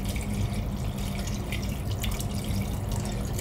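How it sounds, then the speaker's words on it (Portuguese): Water poured into a pressure-cooker pot of beef rib and cassava, a steady splashing and trickling stream that runs loud and continuous the whole time, with no talk. "Coloca mais um pouquinho de água, ó."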